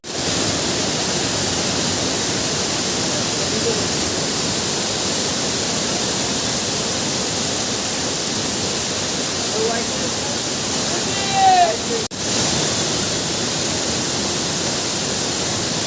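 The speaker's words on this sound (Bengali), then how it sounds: "এই সেই ঝর্ণা অর্থাৎ ওয়াটারফল দারুণ একটা ভিউ আমরা পাচ্ছি" Waterfall at the Rock Garden in Darjeeling, a loud, continuous roaring rush of falling water that masks everything, with a brief sharp knock near the end.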